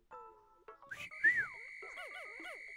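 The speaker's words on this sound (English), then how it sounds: "Now I'll use B to call them back to me with my whistle" In-game whistle from Pikmin 4, used to call Pikmin back: a short rising tone, then a steady high whistle held for over a second with a warbling chirpy pattern layered on top, clear and alone.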